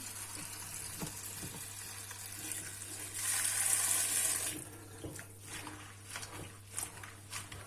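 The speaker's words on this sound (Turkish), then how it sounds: "Şimdi güzel bir yıkayın pırasalarımı arkadaşlarım." Garden leeks are rinsed under a running kitchen tap, a loud gush of water lasting about a second in the middle, framed by quieter splashes and handling noises, with no talking.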